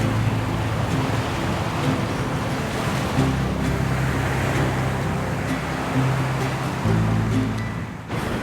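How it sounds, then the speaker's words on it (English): Steady wind and breaking sea waves roll continuously around a sailboat off the far north of a Caribbean island near Tobago Keys on a windy day, with low engine-like hum and gusty microphone buffeting and no talk. "It's windy today"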